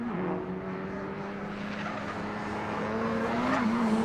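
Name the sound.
race car lapping Road Atlanta circuit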